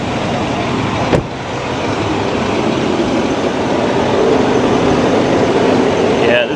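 A truck engine, freshly freed from mud, runs with a steady broadband rumble, loud and close, with a sharp knock early on and no break in the drone.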